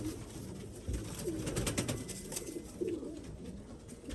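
Domestic pigeons coo at close range in a loft, their repeated low, throaty calls layered with soft rustling and steady background noise, with no talk heard.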